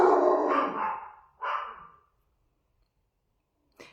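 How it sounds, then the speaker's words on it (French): Barking from the speaker's own dogs, a couple of loud, close bursts in the first two seconds, then a short sharp yip near the end, with no talk. "mes chiens, je sais même pas s'ils savent pourquoi ils aboient"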